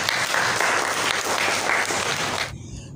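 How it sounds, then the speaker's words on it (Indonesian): Applause from a seminar audience at a school procurement information session, a dense sustained clapping that fills the room, then cuts off abruptly near the end. "Kita beri aplaus."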